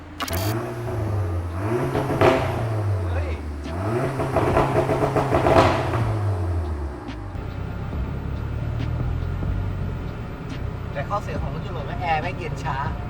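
A Volkswagen Golf engine idles and revs in several rising and falling surges before settling into a steadier run on a test drive, heard close with people talking throughout.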